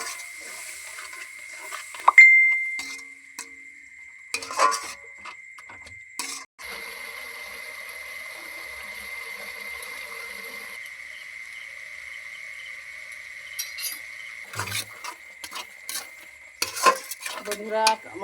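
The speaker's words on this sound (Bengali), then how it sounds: "জল দিয়ে মশলাটাকে একটু ভালো করে কষিয়ে নেব।" Spice masala is stirred and cooked down with water in a pan: sparse metal clinks and scrapes of a utensil against the pan over a thin, steady high whine, with quiet stretches between bursts.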